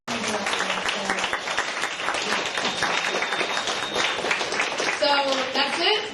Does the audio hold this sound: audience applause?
yes